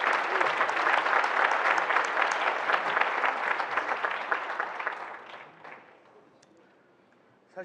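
An audience of roughly ninety young members of a conservative forum applauds at a political gathering, with dense, sustained clapping that fades out over the final few seconds.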